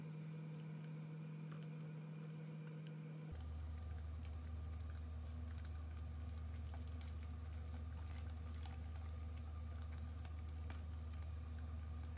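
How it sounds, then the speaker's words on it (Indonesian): Medan anchovies fry in a generous amount of cooking oil in a non-stick pan, a steady close sizzle and crackle that starts after a few seconds of low hum and continues alone without talk. "Lalu masukkan dan goreng teri medan"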